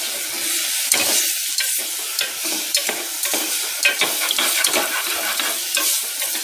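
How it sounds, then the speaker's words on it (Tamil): Chopped snake gourd is stirred and sautéed in a pan for a pulav, with repeated close scraping strokes of a spoon over a soft steady sizzle and no voices. "ஒரு கலக்கலக்கணும், கொஞ்சம் வதங்கணும்."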